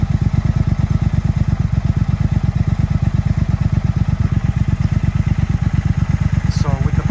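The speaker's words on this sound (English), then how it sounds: "So with the bike started," A 2022 Triumph Speed Twin motorcycle engine idles close by, a loud, steady, even low thumping pulse that runs the whole time, with a brief chirp near the end.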